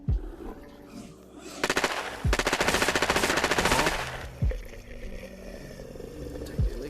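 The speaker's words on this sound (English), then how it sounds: "So you sort of can shoot them anywhere, but headshot is the most effective way to deal with them." Gunfire in the Quest 2 VR shooter Razorwind, mixing single heavy shots with a sustained rapid automatic burst of about two seconds, loud and close over a steady game background.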